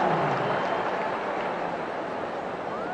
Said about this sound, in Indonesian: Wow, kita tepuk tangan.